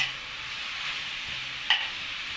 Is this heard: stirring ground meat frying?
yes